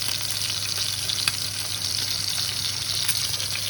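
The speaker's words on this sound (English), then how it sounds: "we need to fry it for about 6 to 7 minutes on one side" Pork chops sizzling in a frying pan, a steady close crackling hiss with faint pops, no voices.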